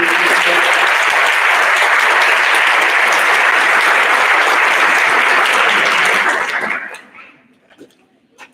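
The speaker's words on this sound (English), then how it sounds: "Please join me in a round of applause." Loud, dense audience applause fills a board of education public session meeting room, holding steady for several seconds before tapering off into a few scattered claps and near silence.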